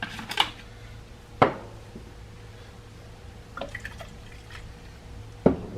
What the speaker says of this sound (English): It may be dripping.